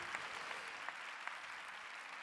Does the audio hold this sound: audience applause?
yes